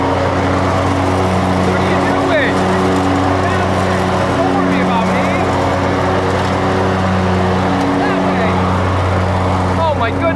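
A lawn mower driven by an 11-year-old drones loudly and steadily up close, its engine hum constant throughout with a faint voice under it.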